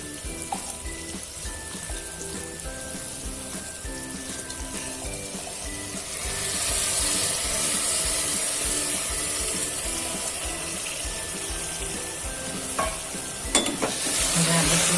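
Washed rice and dal are tipped into a pressure cooker pot for rice rasam and stirred, giving a steady scraping stir over a soft sizzle, with a few sharp clinks near the end.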